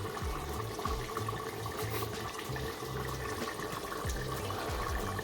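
Water boiling on high heat in a pot for goat curry, a steady dense bubbling and hissing that stays close and even throughout, with no talk.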